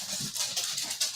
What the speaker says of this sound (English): You hear puppies?